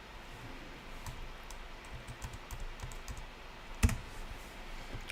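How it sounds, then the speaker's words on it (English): Computer mouse and keyboard clicks during a FreeBSD setup of dosbox-x with Windows 3.11, faint scattered tapping and clicks over a low hum, with one sharp, louder click near the end. "And click on continue."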